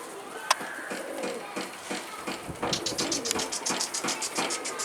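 Pigeons at a fancier's loft coo and stir in a rapid, steady run of soft pulses that grows busier partway through, with a faint background murmur.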